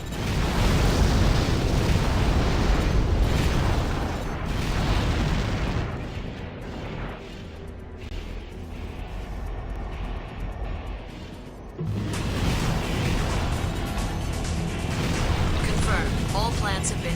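Explosions from plants being blown apart in Armored Core: For Answer, a dense, loud roar of blasts and rumbling debris that dips midway, then surges again, with a voice talking over it.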